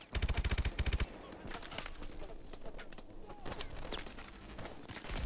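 Gunfire in Call of Duty: Advanced Warfare, opening with a rapid, loud automatic burst and followed by scattered shots and bursts over busy battle noise, with a player's voice talking intermittently throughout.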